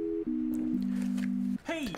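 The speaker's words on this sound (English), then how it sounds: "Morse code." Morse code beeping: steady electronic tones in long held segments stepping between pitches, loud and alone, then a brief swooping sound at the end.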